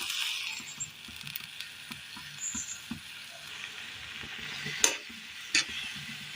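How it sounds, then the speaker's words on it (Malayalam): Grated carrot cooks in coconut milk in a pan, giving a soft bubbling simmer. Light stirring scrapes and a couple of sharp clinks sound against the pan. "തേങ്ങാപ്പാലിലിട്ട് ക്യാരറ്റ് ഒന്ന് വേവിച്ചെടുക്കുകയാണ്"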